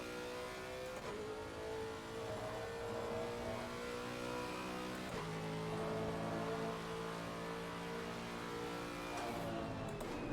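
In a racing video game, a car engine revs and climbs through repeated gear changes, its whine rising and then dropping at each shift. The sound is steady and moderately faint, with no talk over it.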